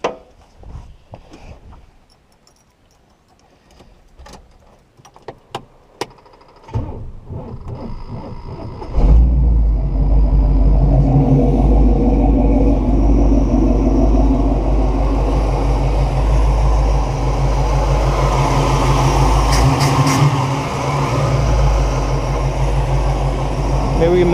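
A 1969 Buick Special Deluxe engine with a fuel problem starts partway through after quiet moments and soft handling noises, then runs steadily and loudly at a rough idle close by.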